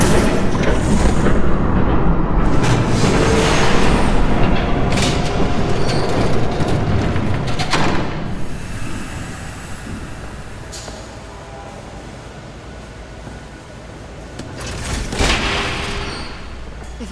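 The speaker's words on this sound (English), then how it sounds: "There's a train coming." A train roars past in Batman: The Telltale Series, a loud rumbling and clattering rush that swells early, fades through the middle, then surges again near the end.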